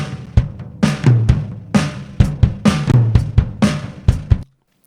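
Acoustic drum kit recorded with only two microphones and mixed without a snare sample, playing a steady groove of kick and snare hits with cymbal wash, loud and close, ending abruptly.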